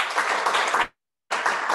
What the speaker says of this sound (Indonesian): mari kita berikan apresiasi dan tepuk tangan untuk para pembicara